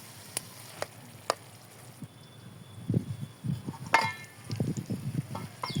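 Rui fish head bhuna curry with green chillies being stirred in a pan: a soft frying hiss with a few sharp scrapes early on, then denser clattering and scraping strokes that grow louder toward the end.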